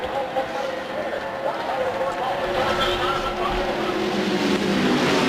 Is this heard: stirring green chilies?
no